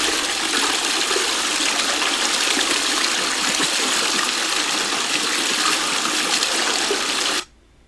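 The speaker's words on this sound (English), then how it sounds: "Nice free-flowing water. Have my jug, fill this up." Free-flowing stream water pours steadily into a jug, a loud continuous rushing gush that holds without a break for about seven seconds, then cuts off sharply near the end.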